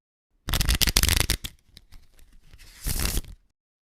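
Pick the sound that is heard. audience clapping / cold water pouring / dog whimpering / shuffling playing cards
shuffling playing cards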